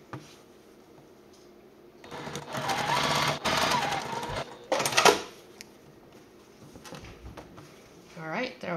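A sewing machine top stitches the card slots of a fold-over wallet in two loud bursts of a few seconds each, quieter handling and low speech filling the gaps around them.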